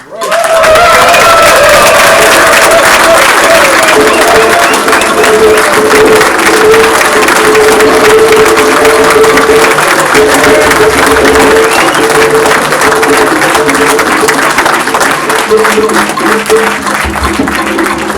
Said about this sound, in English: I don't want to hear y'all clapping like this. Give her a welcome.